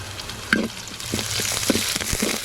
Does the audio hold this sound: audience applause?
no